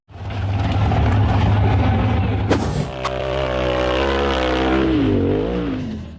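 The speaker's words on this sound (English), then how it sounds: "The green buggy powered up the steep dirt hill" A green off-road buggy's engine roars loud and close as it climbs a steep dirt hill, holding a heavy drone before dropping and settling into a lower, wavering rev.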